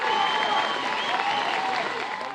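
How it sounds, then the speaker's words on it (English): Demonstrators outside a police headquarters in Dallas chant and cheer as a dense crowd, with a steady roar of voices and clapping holding at a loud, even level throughout. "Protesters outside police headquarters chanting Black Lives Matter and cheering"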